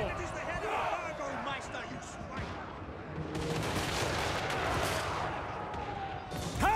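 Hand gunners firing in a Total War: Warhammer 3 battle, a continuous din of gunfire and battlefield noise under a voice talking throughout.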